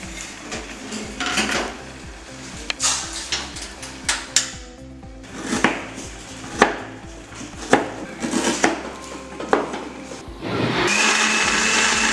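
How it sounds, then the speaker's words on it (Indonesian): A kitchen blender whirs through ginger in bursts, mixed with clattering pots, dishes and cutlery and some chopping, busy and fairly close, with a steady motor hum underneath. "Jahe yang sudah kita blender"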